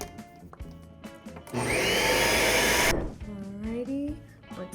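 A kitchen blender gives one short loud blast while blending a healthy sweet treat, a dense whirring roar of about a second and a half between quieter handling sounds.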